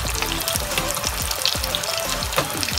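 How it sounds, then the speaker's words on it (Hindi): Potatoes for dum aloo frying in oil on a high flame, a loud, dense, close crackle and spatter of popping oil that keeps up continuously without any voices. "पहले इसको हाई फ्लेम पर थोड़ा सा लाइट गोल्डन होने तक फ्राई करेंगे"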